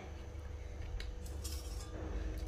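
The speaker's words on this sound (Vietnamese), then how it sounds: "chuẩn bị một cái nồi cái nồi này để mình thắng" A metal cooking pot is handled in a home kitchen while making palm sugar syrup for a Vietnamese sweet soup, giving soft clinks and scrapes over a low steady background hum.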